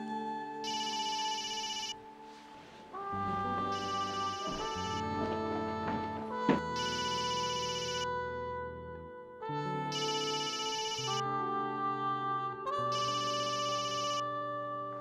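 A telephone rings in repeated bursts with short pauses between them. The ringing is steady and fairly quiet.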